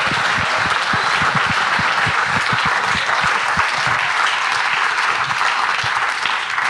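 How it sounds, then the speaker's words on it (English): An audience gives a long, dense round of applause for the evening's speakers, a steady, loud wash of many hands clapping with no talk over it. "If we can get a great round of applause for the speakers for tonight."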